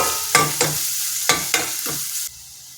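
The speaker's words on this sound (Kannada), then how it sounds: "ಸ್ವಲ್ಪ ಈರುಳ್ಳಿ ಬಾಡಿಸ್ಕೋಬೇಕು" Chopped onion being sautéed in a pan for a Karnataka-style bassaru meal, with a spoon stirring in several distinct scraping strokes over a steady close sizzle that cuts quieter near the end; no voices.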